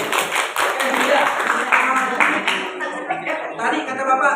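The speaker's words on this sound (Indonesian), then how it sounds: "Oke, kita berikan tepuk tangan lagi." Clapping from a class of students, a broadband patter of many hands that stays steady and fairly loud through the whole stretch with no talking over it.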